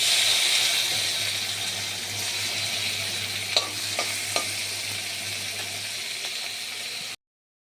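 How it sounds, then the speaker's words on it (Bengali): Prawns frying in hot oil in a pan, a steady close sizzle with a few sharp scraping clicks from stirring, cutting off suddenly near the end. "চিংড়ি কটা ভেজে নেব"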